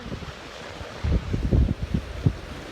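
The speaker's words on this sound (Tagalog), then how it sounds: "Ang lakas ng alon." Strong sea waves off Daeijak island in South Korea, rough water surging and splashing in bursts against heavy wind rumble on the microphone.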